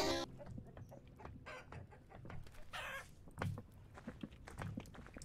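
Chickens clucking in the Vintage Story video game: a series of short, close, uneven clucks and squawks over a soft background, with no speech.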